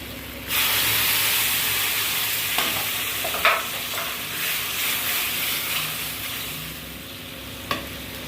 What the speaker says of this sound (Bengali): ভালো করে এটা কষাবো, আর একটু কষবে।